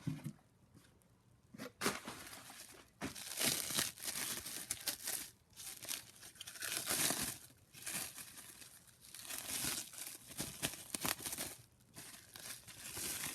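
Packing paper crinkles and rustles in repeated bursts while an X5 Morris magneto for a Harley-Davidson Ironhead Sportster is unboxed, with close, fairly loud crackling and short pauses between handfuls.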